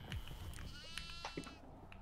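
A goat in the horror video game Devour bleats in a few short, quavering cries over a low rumbling game background.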